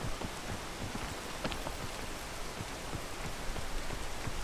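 Rain falls steadily in the video game PEAK, a dense even hiss of drops on surfaces with scattered sharper patters, continuous at a moderate level with no voices.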